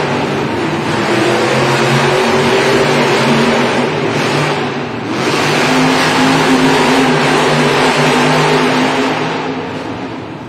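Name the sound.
Monster Jam monster trucks racing, engines revving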